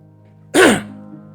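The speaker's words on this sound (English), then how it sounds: "Clear my throat." A single short, sharp throat-clearing burst, abrupt and close, rising out of near silence and fading quickly.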